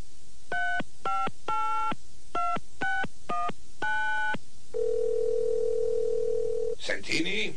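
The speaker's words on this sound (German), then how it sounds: "Hättet ihr was dagegen, wenn ich mal euer Telefon benutze?" Telephone dialed in a German radio drama: seven crisp DTMF tone bursts in quick succession, then a steady dial tone for a couple of seconds, followed by a voice speaking at the end.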